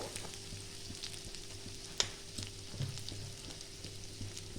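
Dried chili and salt fry in a pan, a quiet, steady sizzle with occasional stirring clicks and a single sharp scrape, close and alone without talk.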